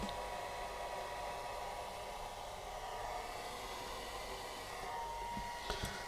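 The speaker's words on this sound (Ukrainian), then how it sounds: "наш вентилятор почав ну так досить гучно працювати, послухайте" A battery charger's cooling fan whirs loudly and steadily, a constant broadband rush with no pauses, close to the microphone.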